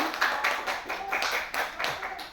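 A group claps together in rapid, fairly even bursts at a positive-discipline training session, sounding steady and moderately close throughout with no voices over it.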